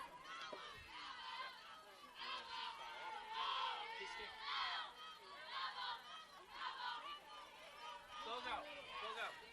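Bridgewater State softball bench players cheering and yelling together over a foul ball during a college game against UMass Boston, a lively crowd of overlapping voices and shouts that continues throughout at steady volume.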